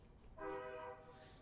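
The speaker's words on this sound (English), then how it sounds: "That's just the train." Brief tonal horn-like blare from a distant train, faint and sustained for about half a second over low background noise.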